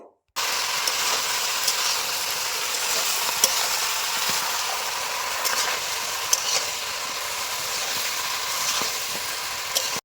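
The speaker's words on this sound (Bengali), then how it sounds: "আমি লবণ দেওয়ার পর আরও বেশ কিছুক্ষণ কষাবো" Salted vegetables, puin stems, sauté in a pan for a Bengali dried fish curry, giving a steady broadband sizzle with occasional soft stirring scrapes throughout, close and continuous with no talking.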